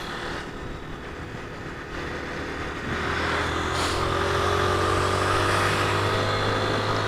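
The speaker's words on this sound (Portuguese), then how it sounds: "Começou a bater válvula aqui, mas eu vou resolver o problema dela." A 2020 Honda Fan 160 motorcycle with about 6,000 km and a valve knock runs close by, its steady engine note rising slightly in loudness partway through, with no talk over it.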